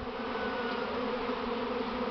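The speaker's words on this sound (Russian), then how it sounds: "Буквально прошло 10 минут и уже пошел рой." A honeybee swarm leaving the hive, a dense steady buzzing drone of many bees close by, continuous and even with no voices.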